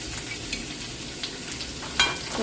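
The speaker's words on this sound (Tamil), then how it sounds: "வெங்காயத்தையும் நல்லா மிக்ஸ் பண்ணி விடுவோம் வெங்காயம் வதங்கிறது" Sliced onions sautéing and being stirred in a pan for a dried-fish curry, a steady close sizzle with soft scraping stirs and one brief louder clatter near the end.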